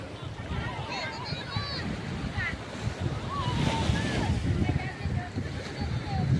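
Sea waves washing steadily along a shore near a fishing boat, a broad continuous roar of surf and water with wind buffeting, while several people talk and call out over it.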